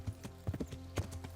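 Horse hooves clip-clop in the medieval game Kingdom Come: Deliverance, several close, distinct hoof strikes in an irregular walking rhythm over a low steady background, with no talk.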